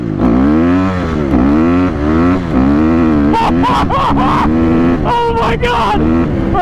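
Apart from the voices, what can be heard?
Honda CRF250R dirt bike accelerating at 3/4 throttle through gears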